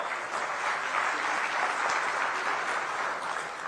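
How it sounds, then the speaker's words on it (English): A round of applause from the audience at a Pravasi Bharatiya Divas event, continuous and even in loudness throughout, with no voice over it. "Can we have a round of applause, please?"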